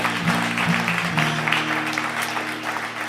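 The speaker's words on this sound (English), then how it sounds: "How's about one more round of applause for Shaun Abbott here" Applause from the studio audience at the WDVX Blue Plate Special live radio show, a dense steady patter of many hands lasting a few seconds, with a faint tonal hum underneath.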